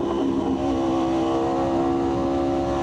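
Aprilia RSV4 1100 Factory motorcycle engine holding a steady, loud droning note close by, with no voices over it during the short stretch.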